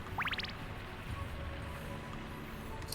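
Waterfall water in the video game Castlevania: Symphony of the Night: a soft, steady rushing hiss runs throughout, with a quick burst of rising chirps near the start.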